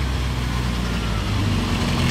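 A steady, low idle of a flying car (helicopter-car) engine just after starting rumbles continuously throughout, close and even, with no voices.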